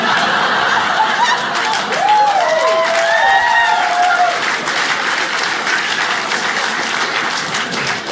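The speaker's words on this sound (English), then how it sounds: "I love you guys clapping at wheelchair jokes." A stand-up comedy audience claps loudly and continuously after a joke, with laughter and a few whoops or squeals rising over the applause partway through.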